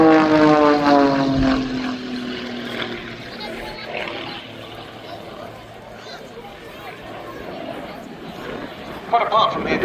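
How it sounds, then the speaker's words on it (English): Rich Goodwin's heavily modified, gas-turbine-boosted Pitts Special aerobatic biplane at Duxford Summer Air Show, a loud passing roar whose propeller drone sweeps down in pitch, then fades into a distant rumbling hiss, with a commentator talking over it. "Quite apart from the addition of the gas turbine engines, this is a very heavily modified Pitts special."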